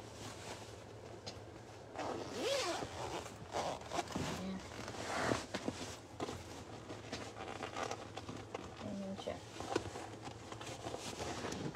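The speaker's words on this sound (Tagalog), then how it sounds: "Zipper mo lang dito." A zipper being pulled along a baby carrier cover, faint scratchy rasps and fabric rustles coming in short bursts close by, with low room hum beneath.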